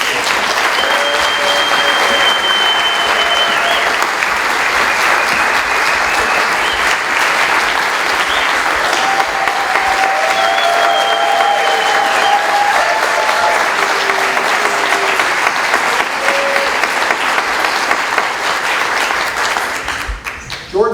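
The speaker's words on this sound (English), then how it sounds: "give them a round of applause." Sustained audience applause for festival staff at a film festival opening night, dense steady clapping filling the room for about twenty seconds before tapering off at the end, with occasional voices and whoops mixed in.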